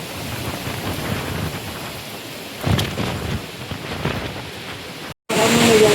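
Rain begins falling during a storm with very strong winds, a dense, loud wash of rain and gusting noise with a low rumble of thunder, broken by a brief gap near the end.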